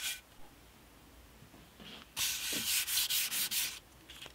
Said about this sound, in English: This is 1500 grit, and clearly I'm sanding it better.